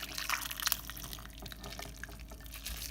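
Water with a few ice cubes is poured into a bowl of ramen, giving a faint splashing trickle with small drips and clinks, quiet and close.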